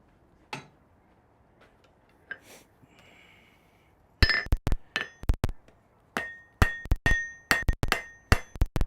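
Hammer blows ring on hot steel at an anvil in a smithy as a steep taper is forged on two sides. A few scattered taps come first, then a steady run of loud, close, ringing strikes with no talk.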